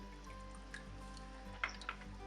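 Water drips faintly from a squeezed fishing net full of duckweed, a few soft, scattered drops over a low steady background hum indoors.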